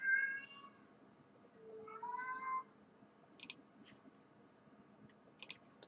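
A house cat meows twice, a drawn-out call at the start and another about two seconds later, close and clear in a quiet room, followed by a few sharp clicks.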